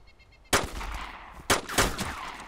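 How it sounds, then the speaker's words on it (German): MP5 gunfire in the video game DayZ: one sharp burst, then two more loud bursts in quick succession about a second later, with quiet background between. "Ah, ist so scheiße mit der MP5 zu schießen"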